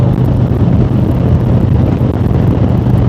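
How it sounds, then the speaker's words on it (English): Strong wind buffets the microphone in a steady, loud roaring rumble that fills the whole stretch, heard outdoors on a motorcycle trip to the Sturgis rally, with no talking. "I know the wind down here is picking up too"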